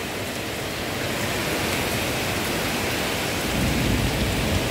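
Steady rain falls outdoors during a wet afternoon, a dense, even hiss that fills the whole clip at a constant moderate level with no voices.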